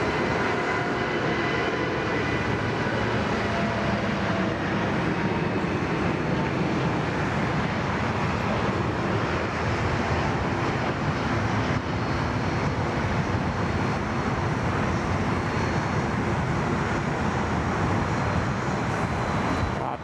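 An airliner taking off from Sydney Airport, a loud, continuous roar of jet engines at full thrust that stays heavy and sustained for about twenty seconds, filling the air with broadband rumble.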